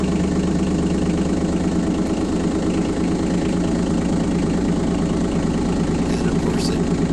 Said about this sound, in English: Turn the engine on, and there she goes,